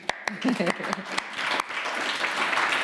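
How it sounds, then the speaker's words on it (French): Audience applause at a film industry roundtable event in Paris: a few scattered claps that swell into steady clapping, with a speaker's voice heard at the start. "On applaudit."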